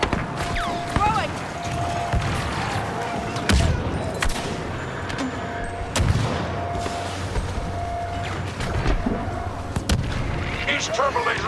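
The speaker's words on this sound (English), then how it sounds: "East turbo laser has been destroyed." A Star Wars Battlefront II battle on Yavin 4 as a turbo laser is destroyed: repeated booming blasts and rumbling explosions, continuous heavy gunfire and laser-like zaps in a dense, loud mix, with voices calling out.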